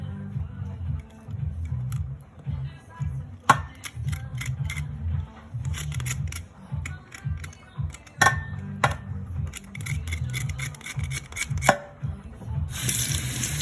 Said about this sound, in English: Give it a rinse.